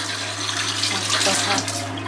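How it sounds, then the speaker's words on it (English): Water runs steadily from a leaking sink faucet aboard a Leopard 44 sailing catamaran, a close, continuous splashing hiss with a low hum beneath it. "We got a leak right here that we have to fix."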